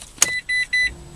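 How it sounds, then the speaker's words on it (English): A red Citroen C-Zero electric car is switched on with the ignition key: a sharp click, then two short electronic tones in quick succession, close and alone. "Basically put the key in the ignition like you do a normal car."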